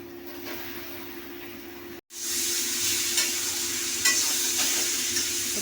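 Pointed gourd (potol) fries in a pan with black cumin seeds, a steady close sizzle with stirring scrapes, cut off by a brief pause before the hiss swells louder as more goes in; no talk.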